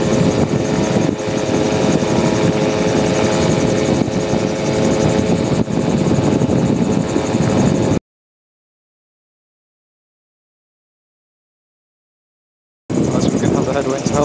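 A gyrocopter's engine and spinning rotor drone loud and close in flight during a strong-wind landing approach, with a steady buzzing roar that cuts out completely for several seconds mid-way and then returns.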